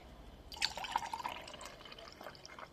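Foamy drink poured into a glass: a brief, faint trickle and splash with a few bright glassy drips and fizzing, quiet and close, with no talking.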